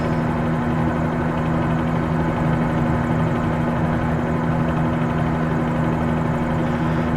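A steady helicopter engine drones continuously in Microsoft Flight Simulator 2020, a low rotor hum that never changes, with no voices.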